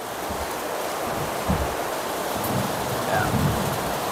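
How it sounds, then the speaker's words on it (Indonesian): Heavy rain falls outside a greenhouse sheltering potted grapevines, a dense, steady hiss filling everything, with low, muffled rumbles of thunder swelling briefly in the background and no voices. "Ini ada petir juga ini, kedengaran teman-teman ya."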